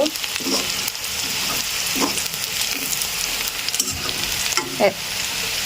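Onions and chillies fry in hot oil with a constant close sizzle, broken by a few quick scraping stirs of a spatula.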